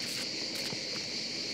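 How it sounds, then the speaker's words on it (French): Crickets in a pine forest give a steady, continuous high chirring that fills the background with no breaks and no voices. "On dit souvent le chant des grillons, mais non, ils font du bruit avec leurs pattes"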